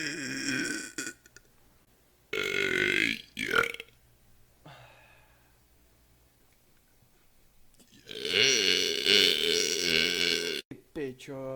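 Several loud, drawn-out burps up close, a throaty eructation at the start followed by a couple more long, resonant belches after a quiet stretch, with brief voiced bits between.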